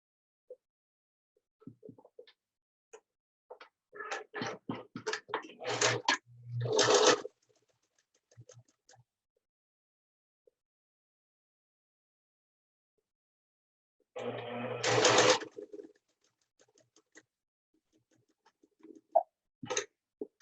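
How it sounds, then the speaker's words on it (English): A sewing machine runs across the folded-down top edge of a fabric mask in short bursts, with a longer run of stitching, a long pause, then another burst, all fairly quiet and close. "I'm going to sew across the top where this was folded down."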